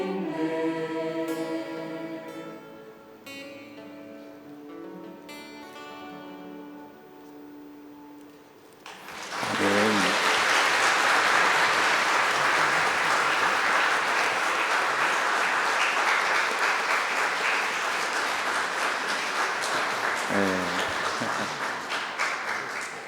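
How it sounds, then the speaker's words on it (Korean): Sustained congregation applause in a church during an all-generations worship service, breaking out loudly after a choir's hymn fades and continuing steadily as a dense, enthusiastic wash of clapping. "박수가 안 끝나네요, 그렇죠?"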